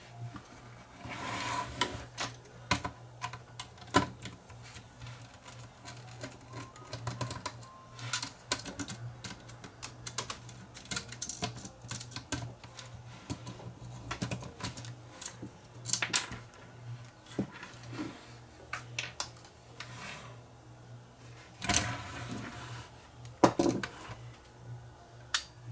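Screws being backed out of the cassette loader assembly on a Fostex D10 DAT deck: scattered small metallic clicks and ticks from a screwdriver at close range, irregular over a low steady hum, with no talking.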